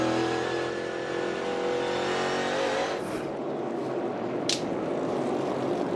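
A NASCAR Cup stock car at North Wilkesboro during the 2023 All-Star Race, its engine revving loud and sustained, a steady high roar with brief surges as it powers off the corner.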